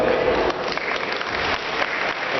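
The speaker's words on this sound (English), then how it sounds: "Let's give her a round of applause." An audience at a formal event applauds, a dense, steady wash of clapping from many hands filling the whole short stretch, fairly loud and continuous.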